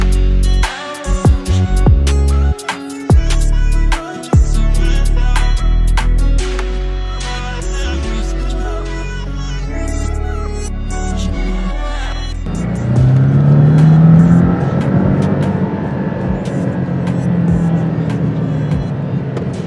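A Porsche 718 Cayman with the 2.0 engine pulls away hard, loud and close, with gear changes breaking the acceleration early on, then a steadier engine roar that rises through the last several seconds.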